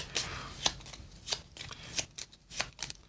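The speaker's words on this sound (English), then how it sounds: "This gets shuffled back into the deck, the misfortune coin." A deck of cards in a tabletop board game is shuffled by hand, giving a quick series of crisp riffling and tapping bursts in an uneven rhythm, close and without speech.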